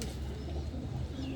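A female pigeon gives soft, low cooing close by, a brief murmuring call over faint background noise.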